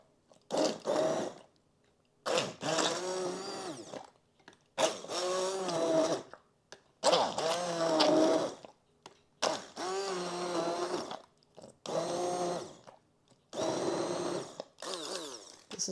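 An immersion blender whirs through apple butter in repeated bursts of one to two seconds, about eight pulses with brief silences between, close and fairly loud, its pitch wavering as it churns.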